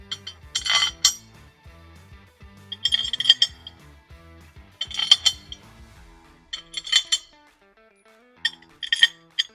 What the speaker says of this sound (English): The easiest way to do this is to put all the 2-inch carriage bolts in and flip it over.